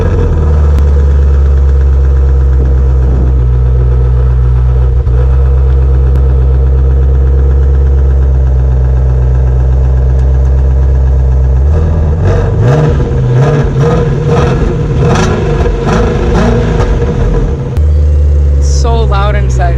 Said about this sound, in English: V8, meaning the cylinders fire evenly, so it provides a smooth sound and more power.